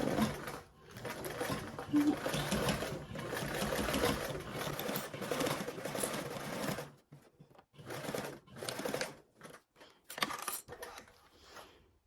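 A sewing machine stitches through layers of vinyl with a D-ring, running steadily and loud for about seven seconds, then stopping and restarting in short bursts.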